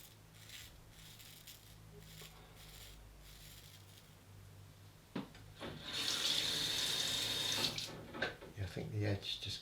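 A T. Turton straight razor is rinsed under a running tap, a loud gush of water midway that rises abruptly and then breaks into splashes, with a voice and small handling noises around it.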